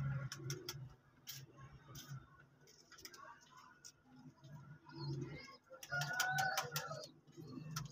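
Young Rampuri Teddy pigeons coo softly in low, repeated murmurs, with people talking nearby and scattered ticking and clicking sounds.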